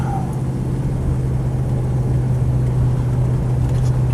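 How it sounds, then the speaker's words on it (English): A Land Rover Defender 90 50th Anniversary engine pulls under acceleration, a steady low droning hum with a strong tonal note that holds loud and close throughout, with no voices. "It's always nice to hear that engine under acceleration"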